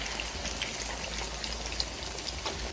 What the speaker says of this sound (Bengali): আর অল্প আছে, এগুলো ভেজে নেব।